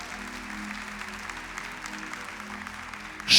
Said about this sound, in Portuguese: Então aplauda, porque se ele prometeu